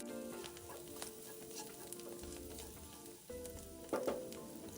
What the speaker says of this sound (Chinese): 拌炒至香菇溢出香气后，再将预先备好的腊肠加进来，一直拌炒至腊肠溢出油分